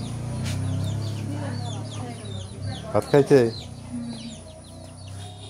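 Chickens, a hen with four chicks, cluck in the background while a person speaks nearby, with a short burst of louder squawking calls partway through.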